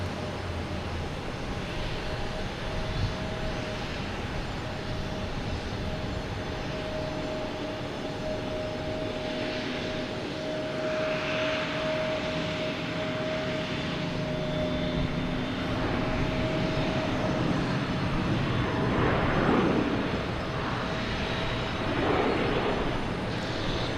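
An American Airlines jet airliner at Boston Logan Airport gives a steady, moderate engine rumble with a sustained whining tone, growing slightly louder and rougher in the later part as the aircraft nears.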